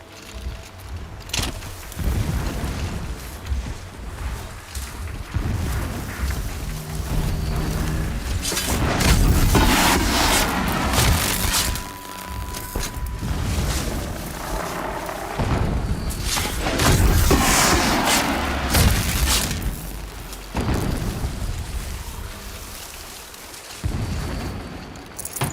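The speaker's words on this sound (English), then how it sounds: "explosions in the distance. Pay that no mind." Distant explosions rumble through a Horizon Zero Dawn game scene as a dense, continuous low booming wash with intermittent louder surges and whooshes, heard without speech.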